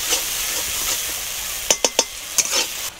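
Ground cashew, poppy seed and melon seed paste frying with spices in a pan for cauliflower roast, a steady close hiss of sizzling broken by a few sharp utensil clinks near the end.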